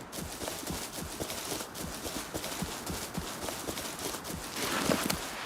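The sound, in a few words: horse hooves in video game Rust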